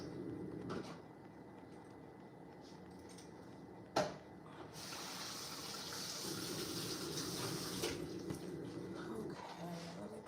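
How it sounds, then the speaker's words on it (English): Running tap water in a home, a steady broad wash of flow over hands lasting most of the moment, with a sharp knock partway through, heard fairly close and alone without talk. "Hold on, let me wash my hands."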